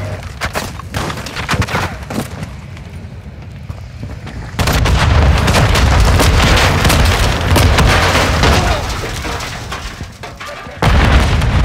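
A grenade goes off in Call of Duty: Modern Warfare 3 (2023), with loud, heavy booms amid sustained gunfire and battle noise that swell midway and stay dense to the end.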